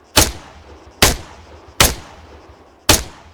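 Four loud, sharp gunshots fired at uneven intervals in the video game Arma 3, each a close, punchy crack with a short decaying tail, no voices.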